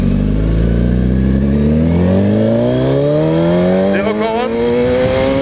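A motorcycle engine pulls hard on takeoff, its pitch climbing steadily toward the red line in one loud, close, continuous rise, while someone speaks briefly near the end.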